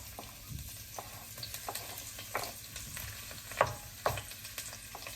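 Chopped onions and carrots frying in a pan for a tofu and mixed vegetable stir fry, a steady low sizzle broken by occasional sharper crackles and pops, close by with no talking.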